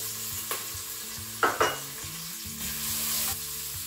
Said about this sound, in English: The white and red onions are going to fry up nicely, and we just want to wait for them to be translucent.